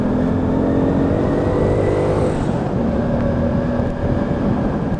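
A Lexmoto Riot 125cc motorcycle engine pulls steadily under load in third gear through corners, a continuous close engine drone with wind rush and a slight shift in pitch midway.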